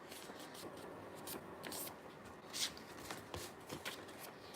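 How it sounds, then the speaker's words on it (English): A paper cheat sheet is folded by hand: faint, close crinkles and soft rustling creases in short bursts against a quiet room. "I take my cheat sheet, pretty simple, and I'll fold it so there's no overlap"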